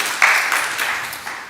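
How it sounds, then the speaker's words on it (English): Applause from an audience at an AI agents hackathon finals, a short burst of clapping that swells quickly and then trails off into a lighter patter. "So everybody gave them a round of applause."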